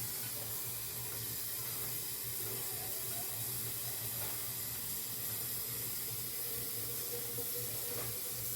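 Water running from a kitchen tap into a soup pot, a steady, even rushing stream that holds constant throughout at moderate loudness, with a low hum underneath and no voices.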